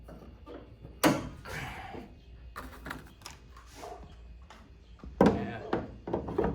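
Hood of a 2005 Chevy Colorado released and lifted open, a few loud close thunks and clunks amid rustling, with brief voices nearby.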